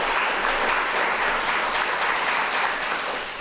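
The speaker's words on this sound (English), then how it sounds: "allowing you to give our amazing panelists a round of applause" Dense applause from a conference audience thanking a panel, continuous loud clapping filling the whole stretch and tapering slightly at the end.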